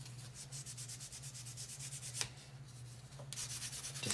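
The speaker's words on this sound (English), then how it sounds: "I'm sanding around this sign" Wood being hand-sanded around a sign on a bench insert, with steady rhythmic rubbing strokes that stay close and fairly quiet, without any talking.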